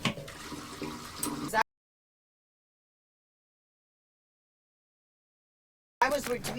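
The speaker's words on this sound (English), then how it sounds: "This is gray water that we're flushing right now." Gray water from an RV's gray tank drains through a sewer hose, a steady rushing and gurgling flow for about a second and a half, followed by silence and then a short burst of noise at the end.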